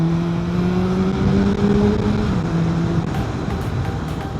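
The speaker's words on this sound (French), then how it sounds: "Donc c'est une Kawasaki ZR7S de 2003" A 2003 Kawasaki ZR7S motorcycle engine hums steadily while riding through town, its tone rising and shifting with wind rush, continuous and fairly close throughout.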